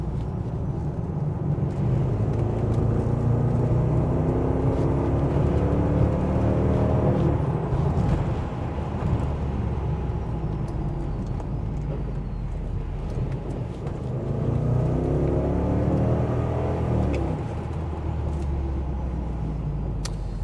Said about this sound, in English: That is shifting for a big, heavy car.